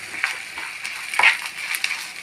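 Peanut chutney ingredients with asafoetida frying in a pan, giving light crackling and sizzling bursts with a few sharper pops, close and fairly soft, no voices.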